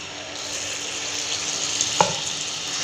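Punugulu, fritters of rice-flour and maida batter, frying in hot oil, giving a steady close bubbling sizzle throughout with a single sharp tap near the end, no talking.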